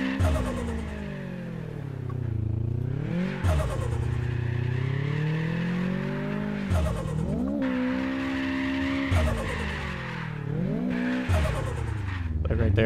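Car drifting in the video game Apex Point, a continuous engine drone that rises and falls in pitch with repeated revving swells, loud and close throughout.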